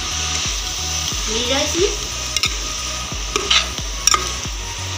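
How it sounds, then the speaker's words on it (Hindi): Grated carrots stirred in hot ghee in a pan over a high gas flame: a steady close sizzle cut by regular scraping strokes of the spoon, with a few brief spoken words. "सारे गाजर को इस तरह हम डाल लेंगे। इसको हम चलाते जाएंगे"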